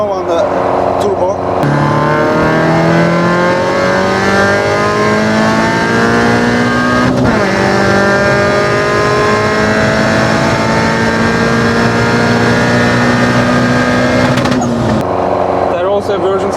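Opel Corsa B GSI with a swapped naturally aspirated C20XE engine on individual throttle bodies, revving loudly and climbing through rising pitch sweeps close by, with a shift near the middle and voices talking underneath.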